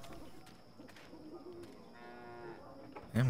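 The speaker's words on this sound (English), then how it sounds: "Damn, cow, you got a fat neck." A cow moos in the video game Dreamfall: Chapters, a drawn-out, fairly faint low call under quiet game ambience, followed by a louder close thump at the end.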